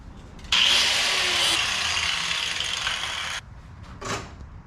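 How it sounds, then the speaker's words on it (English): Angle grinder cutting off a bolt on a 1971 VW Super Beetle, a loud steady abrasive whine running for about three seconds, then a brief quieter burst of grinding afterward. "I'm gonna use my angle grinder to cut it off."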